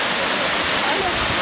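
A waterfall in Antalya on a busy weekend gives off a steady, loud, full rush of falling water, an unbroken roar with no pauses.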